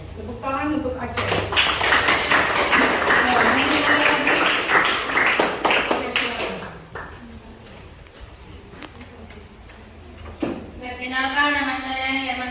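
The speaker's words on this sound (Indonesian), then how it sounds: "Tepuk tangan untuk Acong." Students applaud for a classmate at a junior seminary school orientation in Langgur, the dense clapping lasting several seconds before fading out, with a voice and more clapping returning near the end.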